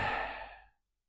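A single soft, airy breath during a winter qigong exercise, close and quiet, fading out within a second.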